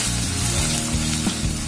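Chopped medium-sized onion fries in hot oil, a continuous crackling sizzle with a low rumbling hum underneath and a few brief stirring knocks.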